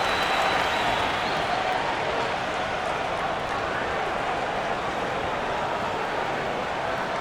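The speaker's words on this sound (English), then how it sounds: "Please give a big round of applause for this one." A dense crowd roar and applause in a simulated WNBA Finals arena from an NBA 2K game, loud and continuous, with a commentator's voice faintly beneath.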